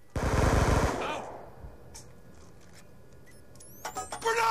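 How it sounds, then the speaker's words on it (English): A Scorpion submachine gun firing in a video game, one rapid, loud burst of about a second that cuts off sharply, followed by quieter clicks and bright mechanical game sounds near the end. "I need to use a scorpion more, man. It's such a warrior gun."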